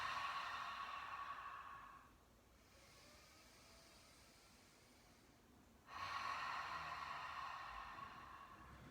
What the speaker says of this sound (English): I need an exhale, audible, cleansing breath,